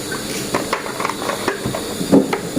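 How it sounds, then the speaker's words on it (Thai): Soft hissing and gentle bubbling of water on the boil in a pot, fairly quiet and steady with small irregular pops. "น้ำเดือดแล้วครับ"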